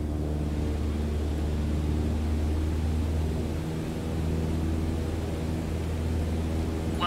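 A Cessna 152 engine at full throttle in Microsoft Flight Simulator, a steady droning propeller roar with a low buzzing hum, constant and loud throughout.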